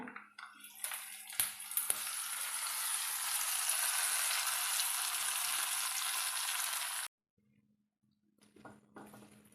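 Hot tempering of mustard seeds, onion, green chili and curry leaves is poured into erissery curry. A burst of loud, hissing sizzle lasts several seconds and then cuts off abruptly, followed by faint stirring clatter.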